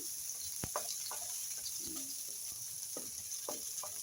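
Onion and garlic sauté in a hot pan as a soft continuous sizzle, with scattered clicks and scrapes of stirring and a faint murmur in the background.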